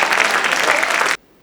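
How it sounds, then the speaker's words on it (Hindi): Loud, dense audience applause at a mushaira poetry gathering welcoming the poets, a steady roar of many clapping hands close by that cuts off abruptly near the end. "एक बार भरपूर तालियों के साथ उनका इस्तकबाल कीजिए।"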